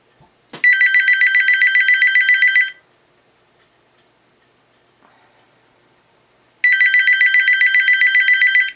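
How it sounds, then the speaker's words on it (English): A telephone rings in two long electronic bursts of rapid repeated tones, separated by several seconds of quiet. "Excuse the phone ringing."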